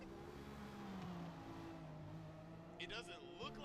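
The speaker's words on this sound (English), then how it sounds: "I'm just hearing him smack through gears like crazy" A Forza race car engine drones at high revs, then shifts rapidly through gears near the end with quick pitch jumps and sharp clicks.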